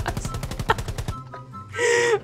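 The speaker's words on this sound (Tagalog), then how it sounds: "Nakarinig lang ng putok ng shotgun." Rapid automatic gunfire in the mobile battle royale game Rules of Survival, a quick burst of about ten sharp shots followed by a short pause and a brighter electronic effect.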